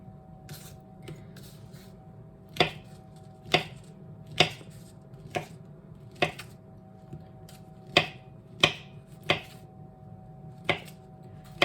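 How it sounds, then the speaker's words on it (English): A butter knife slices through a banana onto a board, giving about a dozen crisp, evenly spaced taps close by over a low steady hum. "So I'm just using a butter knife. You don't even need a sharp knife for a banana."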